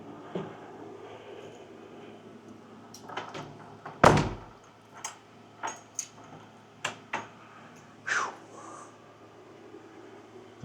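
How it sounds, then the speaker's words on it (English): A door in a reputedly haunted Florida building is pushed shut with a loud thud, followed by several sharp clicks and clacks of handling and locking, ending with a metallic latch sound in an otherwise quiet room. "I shut that door and locked it."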